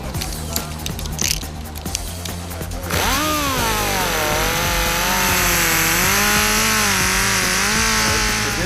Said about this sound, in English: this one looks ready enough till we can grind this down and make it look like the other two